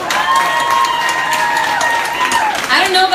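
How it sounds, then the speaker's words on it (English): Audience at a swimwear pop-up party breaking into applause and cheers for swimsuit models, loud dense clapping mixed with shouting voices throughout the short burst. "everybody give these ladies a round of applause"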